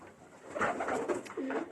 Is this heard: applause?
no